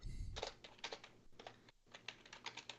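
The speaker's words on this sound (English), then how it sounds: "Danny's just mashing his keyboard" A computer keyboard being mashed, a rapid uneven flurry of clattering keystrokes with one brief pause midway, close and steady, no voice over it.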